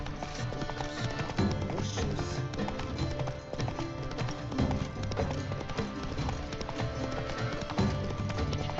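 Roach the horse's hooves clip-clop in a steady galloping rhythm through The Witcher 3: Blood and Wine, close and fairly loud over a dense game soundscape with music.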